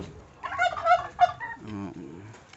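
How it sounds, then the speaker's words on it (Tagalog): Turkeys gobble in a short, rapid warbling burst nearby, followed by lower clucking calls. "Yan yung mga pabo namin."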